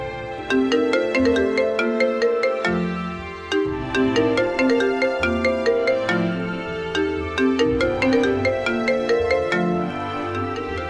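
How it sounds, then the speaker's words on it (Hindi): A phone rings with a looping melodic ringtone, bright bell-like notes repeating in a steady pattern, loud and continuous throughout. "अरे किसका फोन है?"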